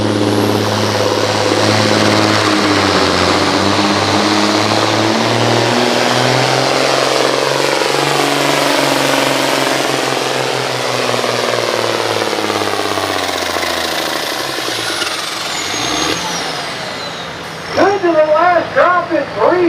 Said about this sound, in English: Let's see what our second green tractor will do here.